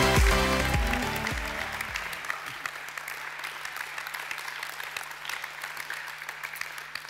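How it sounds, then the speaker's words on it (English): Applause from the audience for the finalists at a young chefs' competition awards ceremony. It comes in as a steady wash of clapping that follows a loud musical sting, holds level and goes on alone to the end. "I guess this applause was for them."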